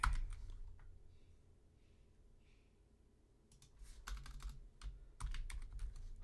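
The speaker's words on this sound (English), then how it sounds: "Typing." Computer keyboard typing, starting with a soft hum and a few isolated taps, then rapid close clicks and clacks in uneven bursts over the second half.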